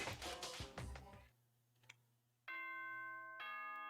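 Announcement chime in the Danganronpa video game: a layered electronic ding-dong tone rings out twice after a brief burst of busy game sound, clear and steady.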